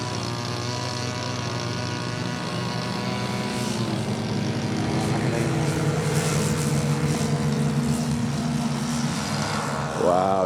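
A radio-controlled B-17 model bomber with a wide wingspan takes off at a big-bird model aircraft event, its multiple engines droning steadily and rising in pitch, loud and near, with a brief higher whine at the end.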